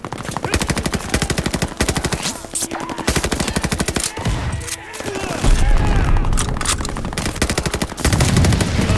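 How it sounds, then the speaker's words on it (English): Sustained automatic gunfire in the World War II shooter Call of Duty: Vanguard, rapid bursts crackling loudly almost nonstop, with brief pauses and heavier booms mixed in, plus occasional game sound effects. "Wait, what the heck gun was that?"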